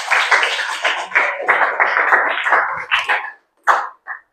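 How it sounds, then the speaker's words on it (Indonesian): A short burst of classroom applause from students, brisk uneven clapping for about three seconds that thins out into a few final separate claps. "Tepuk tangan buat teman kita yang sudah menjawab."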